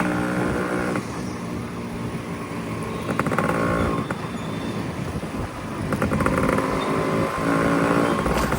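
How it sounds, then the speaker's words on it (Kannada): A Yamaha RX motorcycle with an aftermarket exhaust runs and revs nearby, its rough, loud engine note rising and falling over several seconds with no talking. "ರಾಜೇಶಣ್ಣ ಎಕ್ಸಾಸ್ಟ್ ಅಂತೂ ಕ್ರೇಜಿಯಾಗಿ ಮಾಡೋರೆ ಗುರು"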